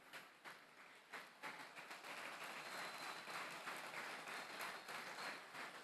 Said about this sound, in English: So we're giving clap to all our athletes, their dedications, their performance.